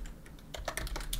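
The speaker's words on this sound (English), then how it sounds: "great typing skills, Kai" Rapid keystrokes on a computer keyboard, a quick irregular run of clicks close up, with no talking.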